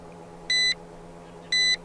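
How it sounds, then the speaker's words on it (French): A Syma X5UW drone gives two short, high-pitched electronic beeps about a second apart when its headless mode is switched on, clear over a low steady hum. "pour mettre le mode headless en marche, on appuie longuement sur ce bouton là. Je vais vous montrer, comme ça vous allez entendre le bip."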